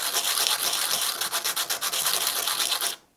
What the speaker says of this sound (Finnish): otetaan pala 120 tai 100 hiomapaperia ja hiotaan tästä palasta se kiiltävä pinta pois